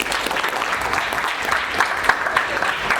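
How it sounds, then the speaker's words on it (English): Audience at an African football awards ceremony claps steadily for three seconds, a dense even patter with a few sharper claps near the end. "Big clap."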